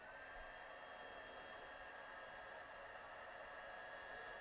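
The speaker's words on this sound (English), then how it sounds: "Let's turn the heat gun on and see." A heat gun powered through a 1500 watt pure sine wave inverter blows with a steady, even fan roar and a faint high whine, unchanging throughout.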